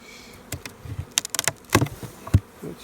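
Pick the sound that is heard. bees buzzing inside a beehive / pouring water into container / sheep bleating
bees buzzing inside a beehive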